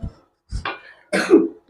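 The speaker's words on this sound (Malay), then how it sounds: "Kenapa bang batuk-batuk ni bang?" Several harsh, close coughs from a man in short bursts, separated by brief pauses, loud and clear with no talk over them.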